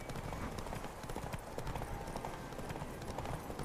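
Rapid clip-clop of horse hooves galloping steadily through dense, noisy game audio in PUBG with a constant rumbling background.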